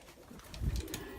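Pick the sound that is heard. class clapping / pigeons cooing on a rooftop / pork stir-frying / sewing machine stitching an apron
pigeons cooing on a rooftop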